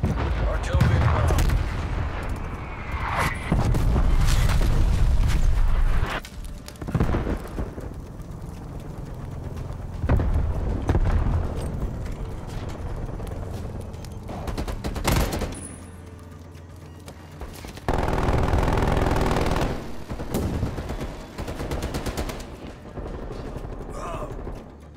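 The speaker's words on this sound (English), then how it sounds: "Hostile artillery targeting active." Call of Duty: Black Ops Cold War team deathmatch: artillery explodes in loud, booming bursts while gunfire crackles in rapid volleys, with quieter gaps between the strikes and occasional talk underneath.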